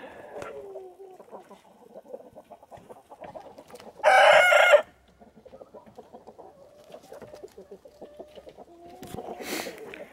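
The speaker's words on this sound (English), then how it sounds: "That was kind of a half-assed rooster crow though" A rooster crows once, loud and close, a short clipped call on a winter homestead, standing out over a steady background of softer clucking and chirping from quail and other fowl.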